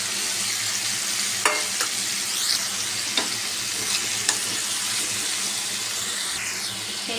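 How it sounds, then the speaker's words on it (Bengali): Cut pumpkin sizzles and fries steadily in a pan with ginger and slit chillies, a continuous hiss broken by a few sharp clicks and scrapes of stirring; no talking. "কেটে রাখা কুমড়ো দিয়ে ভেজে নেবো।"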